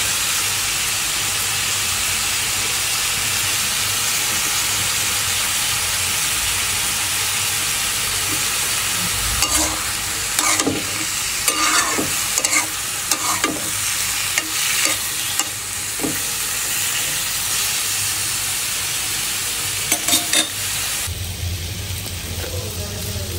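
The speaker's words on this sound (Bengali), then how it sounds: "তো দেখতেই পাচ্ছেন আমার করলা ভাজি কিন্তু হয়ে গেছে" Bitter gourd (karela bhaji) stir-frying in a pan: a loud, constant sizzle and hiss, with a run of scraping stirring strokes through the middle and latter part.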